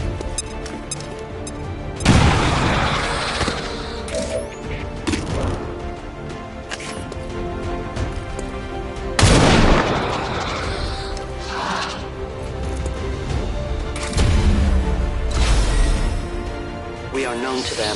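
Frag grenade blasts and gunfire from the video game XCOM: loud bursts hit at three points over a dense, continuous roar of combat noise, with voices partly buried in the mix.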